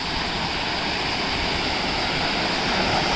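Water rushes down a hidden waterfall near Yanai Kasam, heard close by as a loud, steady roar with broadband hiss that holds without pause throughout.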